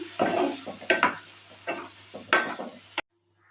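Stirring chopped banana stem in a frying pan: several scraping, sizzling strokes in irregular bursts, close and fairly quiet, ending abruptly.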